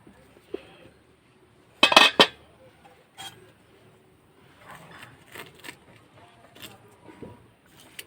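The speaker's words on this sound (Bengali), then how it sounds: "এবার আমি ঢাকনাটা খুলে দেখে নেব" A metal lid lifted off a pot of chicken steamed in a tiffin box buried in sand, giving a sharp cluster of clanks and clinks, followed by softer scattered rattles of cookware.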